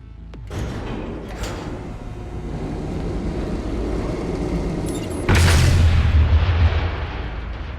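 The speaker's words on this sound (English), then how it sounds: "they blew up the elevators" Elevators in a high-rise building are blown up in an audio drama, giving a deep booming blast over a rumbling background, then a second, heavier roar that hits and slowly fades.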